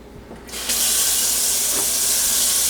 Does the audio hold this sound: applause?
no